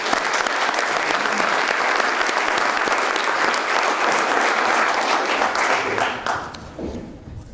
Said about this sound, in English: But I'd like to give a round of applause for the veterans.